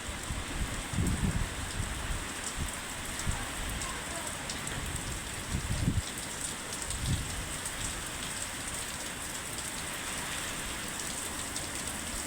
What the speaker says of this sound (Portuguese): Chuva de granizo.